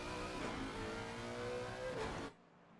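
Race car engines, including a Ferrari and a Lexus, in a sim racing video game sprint race, a sustained high-revving engine drone with shifting pitch, cutting off abruptly near the end.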